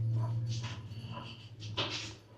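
A dog growling softly and breathing heavily close to the microphone over a steady low hum, with a few brief rustles.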